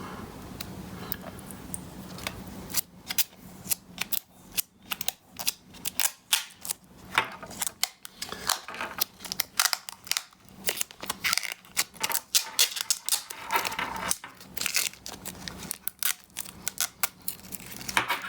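Plastic protective covers are peeled and pulled off a Kanex Thunderbolt to Gigabit Ethernet and USB 3.0 adapter, giving a close run of crinkling, tearing and crackling bursts with no talking.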